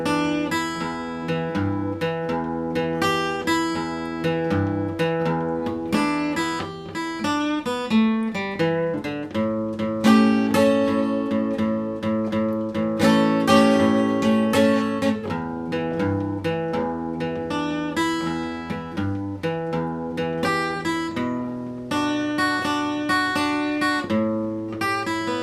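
Acoustic guitar picks out a 12-bar delta blues pattern in A, with steady plucked bass notes under bright single-note runs and chords, played alone at an even, moderate loudness throughout.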